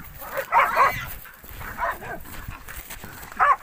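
Hunting dogs bark and yelp in bursts, fairly close, with a scuffling commotion and a voice mixed in, during a night pig hunt as they catch a boar.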